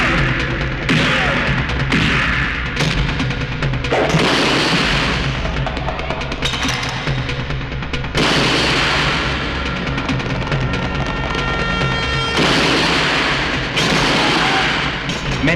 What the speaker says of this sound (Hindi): मैंने अभी अभी फायरिंग की आवाज सुनी है।